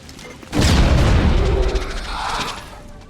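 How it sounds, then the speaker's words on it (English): A sticky grenade detonates in XCom: Chimera Squad, a sudden loud boom with a heavy rumbling tail that slowly fades amid faint debris. "Sticky grenade on the Resonant? Yeah. Sticky bomb, out!"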